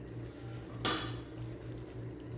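A lid goes onto a cooking pot of chicken afritada with taro: one sharp metallic clank that rings briefly, followed by a low steady simmering hum, fairly quiet overall.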